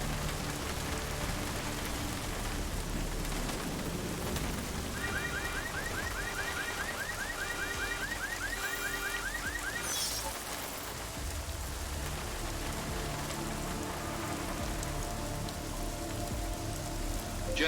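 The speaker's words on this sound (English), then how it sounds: "Get us out of the rain." Constant heavy rain hisses steadily on surfaces in the video game Deus Ex: Mankind Divided, with a repeating electronic alarm-like chirping pattern briefly rising midway above the downpour.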